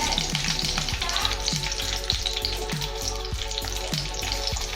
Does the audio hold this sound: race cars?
no